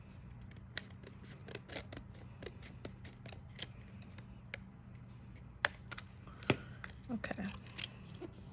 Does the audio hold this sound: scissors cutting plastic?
yes